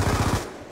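A gun fired through a wall in the Black Ops 2 video game, a brief, loud burst of rapid-fire shots lasting under a second and then dying away.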